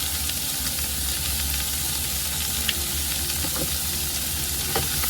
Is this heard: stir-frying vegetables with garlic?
yes